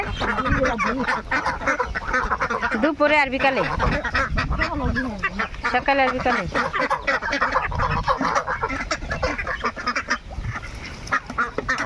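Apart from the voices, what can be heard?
domestic ducks quacking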